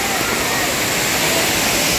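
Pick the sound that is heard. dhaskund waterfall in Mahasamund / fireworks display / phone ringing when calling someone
dhaskund waterfall in Mahasamund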